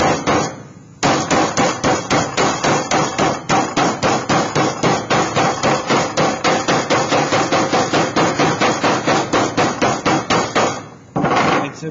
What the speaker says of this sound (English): hammer my ductwork over